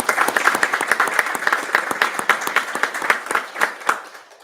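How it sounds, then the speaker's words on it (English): A meeting audience at a chapter gathering gives a round of applause, with close, distinct individual claps in a quick, uneven patter that thins out toward the end. "So I think that deserves a round of applause."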